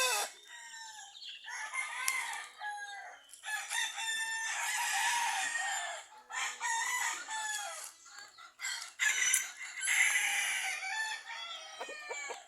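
A rooster crows repeatedly among clucking chickens, the calls loud and close, overlapping in bursts with brief pauses between them.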